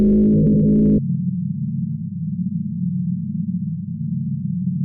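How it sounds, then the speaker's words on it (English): Sound recorded from the Ross Ice Shelf in Antarctica, made audible as an eerie, steady droning hum. A brief richer tone opens it, then a sustained low buzz continues alone. "Scientists have heard the Ross Ice Shelf in Antarctica emitting tones that they have described as songs"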